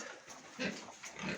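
Pigs on a small Ukrainian farm grunt in a few short, low bursts, close by and fairly quiet, with no one speaking.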